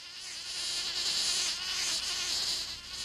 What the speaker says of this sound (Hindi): देखो, वो मधुमक्खी शहद इकट्ठा करने गई है।